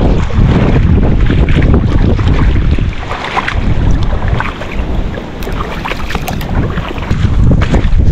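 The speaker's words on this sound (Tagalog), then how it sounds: "Grabe ang hangin oh." Strong wind roars and buffets the microphone continuously, gusting louder and softer, with no voices heard.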